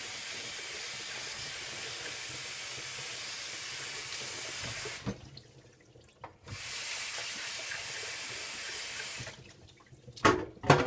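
Running tap water pours into a sink as a pan used for poaching an egg is rinsed clean, a loud steady hiss of flowing water that twice cuts off briefly before clattering handling noises at the end.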